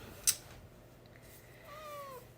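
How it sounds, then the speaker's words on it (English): A cat gives a soft drawn-out meow near the end, preceded by a sharp brief click, fairly faint against a quiet room hiss. "here's the cat."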